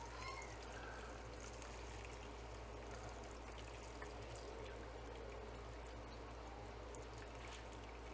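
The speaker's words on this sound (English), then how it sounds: "pour it through a strainer. Just trying to get just the juice." Juice from rotisserie-smoked prime rib is poured through a strainer, making a faint, steady trickle against a low background hum.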